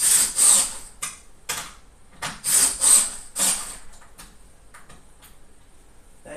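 Pinball machine legs are bolted on with a 5/8 wrench, giving a series of loud, close ratcheting and scraping strokes in short bursts that fade into quieter clicks.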